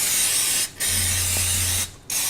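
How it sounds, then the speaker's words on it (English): Cooking spray spritzed into baking pans, two loud hissing bursts of aerosol, the first long and the second shorter after a brief pause, close up with no talk. "I'm gonna take my cooking spray, spray it in every single pan"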